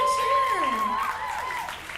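An audience at a vocal department industry showcase cheers and applauds steadily for about two seconds, with shouts and whistle-like calls rising over the clapping.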